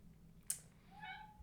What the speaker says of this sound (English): that's our cat, Oat